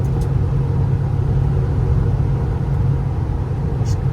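A Ford F550 bucket truck with a 6.7 liter diesel accelerates and shifts gears, heard from inside as a continuous low rumbling drone of engine and road noise.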